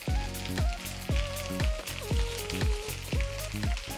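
Rice being fried with vegetables in a pan, a steady crackling sizzle with regular periodic clanks and scrapes of stirring about every half second, with no talking.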